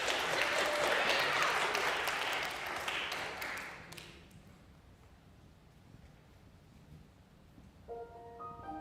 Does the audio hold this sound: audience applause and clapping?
yes